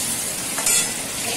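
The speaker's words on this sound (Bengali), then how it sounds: "আমার মাছ ভাজা হচ্ছে" Fish frying in oil in a pan, a steady close sizzle with a brief louder burst partway through and no talking.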